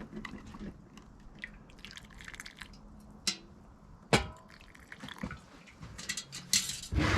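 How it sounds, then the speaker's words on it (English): A bubble remover prods around inside a glass canning jar of venison stew, making soft wet squishes and faint glassy scrapes and taps, close and quiet, with a few sharper knocks. "take my bubble remover, is what they call this gizmo, and just stick it down through here and prod it around a little bit"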